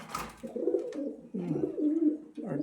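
Domestic pigeons kept in a cramped coop coo in repeated low, throaty phrases close by, several overlapping calls with short pauses between.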